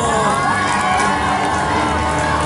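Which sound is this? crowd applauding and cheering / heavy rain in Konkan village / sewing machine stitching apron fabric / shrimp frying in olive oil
crowd applauding and cheering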